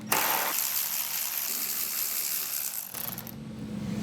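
A ratchet wrench backs out 10mm bolts from the grille of a 2019–24 RAM 2500/3500 HD pickup, a continuous close mechanical clicking that runs for several seconds and then shifts in tone near the end.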